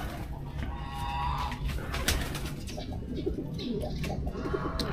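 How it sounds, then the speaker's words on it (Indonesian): Many caged birds coo and call over one another in a busy, continuous chorus of pigeon- or dove-like cooing with occasional sharper calls, close by. "burung banyak men"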